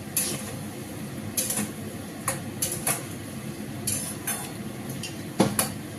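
Kofta curry being stirred in a pan, with a spoon clinking and scraping against the metal in scattered knocks over a soft bubbling background, close and moderate, no talking.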